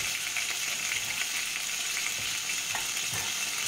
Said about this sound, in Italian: Nel frattempo friggo un'altra base.